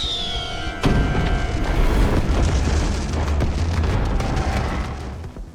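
Fireworks go off in a scene from the film A Quiet Place: a sharp, loud burst, then a long rumbling, crackling roll that slowly fades, with no talking.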